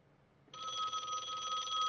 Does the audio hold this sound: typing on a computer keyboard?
no